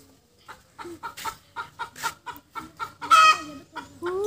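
Muscovy duck gives a series of short, regular honking calls, fairly close and clear, ending in a longer, louder squawk.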